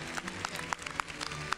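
Scattered hand claps from a small audience for an award, brief and somewhat sparse, fairly close.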